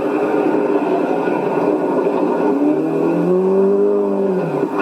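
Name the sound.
rally car driving off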